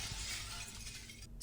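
In the horror video game The Stalked, a pebble strikes a window, producing a brief, quiet, glassy crash with a hiss of broadband noise that cuts off abruptly. No voices are heard.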